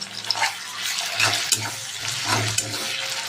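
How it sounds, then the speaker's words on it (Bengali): Sliced onions with dried red chilli and salt fry in a pan, making a continuous crackling sizzle while a spoon stirs and scrapes at intervals, close and moderately loud. "পেঁয়াজটাকে ভালো করে ভেজে নেবো আগে"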